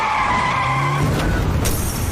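Tires skid loudly as a car charges toward people in a dramatic film scene, a sustained screech with rising tonal squeal overtones and a couple of sharp sweeping accents.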